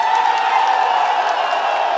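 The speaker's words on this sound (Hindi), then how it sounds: "एक बार अपने राष्ट्रीय अध्यक्ष जी का जोरदार ताली बजा के स्वागत करिए।" A large rally crowd applauding and cheering to welcome Akhilesh Yadav at an election gathering in Chauri Chaura, Gorakhpur, a loud, dense, continuous roar of clapping that holds steady throughout.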